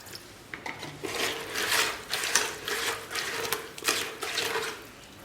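Mud and water being stirred into a thick paste for a nature-cure mud pack, giving a steady run of wet scraping and rubbing strokes at close range, with no voice.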